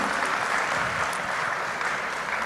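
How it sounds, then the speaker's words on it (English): An audience at a Hyderabad real estate summit gives a brief round of applause, a steady wash of many hands clapping with no speech over it. "please join your hands together and give a round of applause,"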